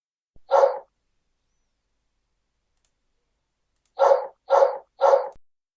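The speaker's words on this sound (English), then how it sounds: "like a really close recording of a dog barking" A dog barks close to the microphone: one sharp bark, a long silence, then three quick barks in a row, each crisp and loud against a quiet background.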